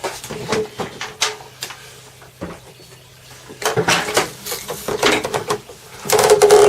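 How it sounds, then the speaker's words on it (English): A vacuum cleaner hose is pulled free from a homemade dust collector, giving irregular plastic clicks, knocks and rattles that come in short bursts and grow busier toward the end. "I'll just disconnect the hoover."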